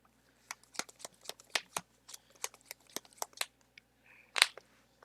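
A deck of Magic: The Gathering cards is shuffled during a multiplayer Commander game, a close, crisp run of quick riffling bursts and card flicks that repeat in an uneven rhythm and end with one louder snap.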